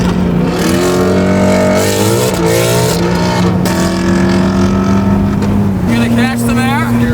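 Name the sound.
Ford Bronco Raptor driving on a racetrack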